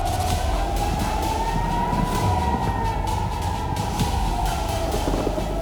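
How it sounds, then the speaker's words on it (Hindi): A siren wails in a slow rising and falling tone, steady and fairly distant, over a rumbling background, sounding near the India-Pakistan border during attacks involving Pakistani drones. "सायरन की आवाज आप सुन सकते हो।"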